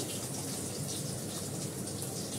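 Cumin seeds tempering in hot oil for a Bengali fish curry, giving a steady, dense sizzle with a watery hiss, close and moderately loud throughout with no talking.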